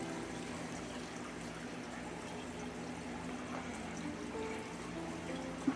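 Dirty, detritus-laden water poured out of a Fluval FX4 aquarium canister filter after a year of use, a steady continuous pouring and trickling wash heard up close with no talking.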